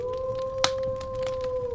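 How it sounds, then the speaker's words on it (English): A wolf gives a single long, steady howl, a clear sustained tone held at an even pitch throughout with a faint background hiss. "As we hear the wolf howl"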